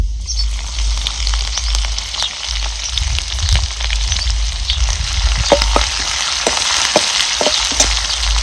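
Ground garlic and coconut hit hot oil with cumin, a steady loud sizzle of frying with crackling pops growing sharper toward the end, no voices.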